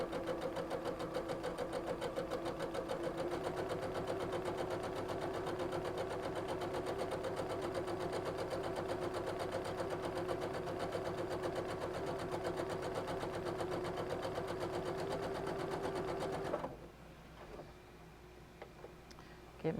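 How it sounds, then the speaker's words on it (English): A sewing machine stitching fabric strips for a rag flag, a fast steady mechanical whirr running continuously and close before stopping abruptly near the end, with someone talking over it. "you just start sewing. Just sew right down the middle."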